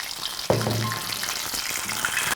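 Prawns drop into hot oil for deep frying with a sudden loud hiss, then settle into a steady close sizzle and bubbling that carries on throughout.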